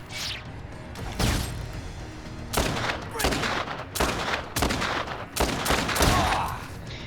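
Sniper rifle gunfire in the video game Dead Rising 2 cracks out in a string of loud, closely spaced shots about a second apart, with a whoosh in between.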